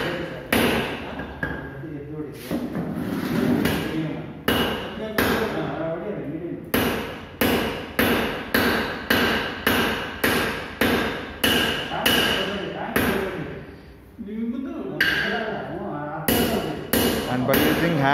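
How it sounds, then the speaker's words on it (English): A hammer pounds a red-hot metal bar to square it and set its length during forging, a long run of sharp, ringing metallic strikes in a steady rhythm, close and loud, with brief pauses between bursts. "again the red hot metal piece is being hit in order to get the perfect dimension of length and squareness."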